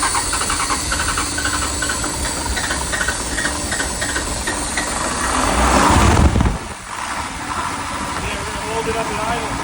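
A school bus engine running rough on five cylinders idles loudly with a constant hissing, rumbling drone that surges and swells, then drops off sharply and settles back to a steady uneven idle.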